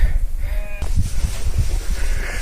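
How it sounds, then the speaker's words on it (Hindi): Sheep and goats bleat loudly and close by on a mountain trail, a few short calls rising over a strong wind rumble. "ये देखिए कैसे भेड़ बकरियां यहाँ पे हैं।"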